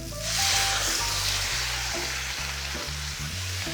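A hot pan of udon noodle stir fry hisses loudly as orange sauce hits it, then settles into a steady, close sizzle with light stirring sounds.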